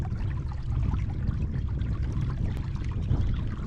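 A boat's outboard motor runs flat out on water, giving a steady loud drone with rushing spray and hull noise and no pauses.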